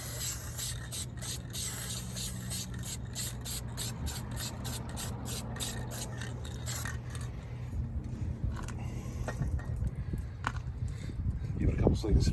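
Spray paint hisses through a stencil in a series of short bursts, then settles into a steadier spray with some rustling and handling noise, while a person talks.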